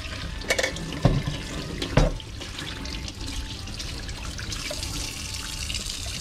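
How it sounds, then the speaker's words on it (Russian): Tap water runs steadily into a sink while a Dr Coffee F2 coffee machine's brew unit is rinsed under it, with a few sharp splashes and knocks near the start. "теперь мы идем к раковине и промываем варочный модуль"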